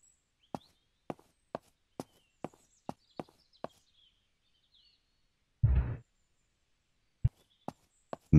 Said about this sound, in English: I keep hearing footsteps, but maybe they're mine.